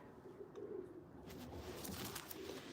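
Soft low cooing of a blue pied racing pigeon, faint and murmuring, with some rustling and light background noise.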